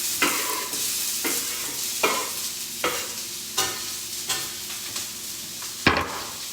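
Onions sizzle in a skillet under a steady frying hiss, with a spoon or spatula scraping and stirring in regular knocks about every second, close and fairly quiet, no talking.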